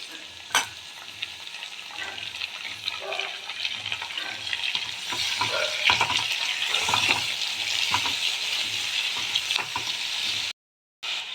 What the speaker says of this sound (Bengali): এগুলো একটু নাড়াচাড়া করে নেব তেলের মধ্যে দিয়ে